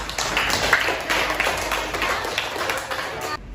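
A classroom of students applauds together, a dense steady patter of many hands clapping at moderate volume for a few seconds before it cuts off abruptly.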